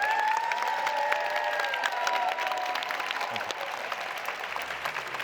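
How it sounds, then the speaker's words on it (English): A crowd at a closing ceremony applauds the exhibition team with a dense, steady wash of clapping that holds for several seconds and eases slightly toward the end, while a thin tonal whine rings faintly at the start. "big round of applause for all those who work on the exhibition"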